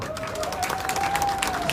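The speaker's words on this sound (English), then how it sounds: "Give him a round of applause." Audience applause at a live political speech in Boston, a dense, steady wash of clapping with a thin tonal hum running beneath and scattered crowd noise.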